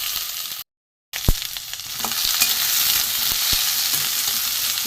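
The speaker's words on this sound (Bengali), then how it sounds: "নিরামিষ কাঁকড়গুলো প্রথমে আমি ভেজে নেব একটু লাল করে ভেজে নেবো" Vegetarian soya chunks frying in hot oil, a brief dropout early on, then a sharp clatter and a steady, close sizzle building with occasional stirring knocks.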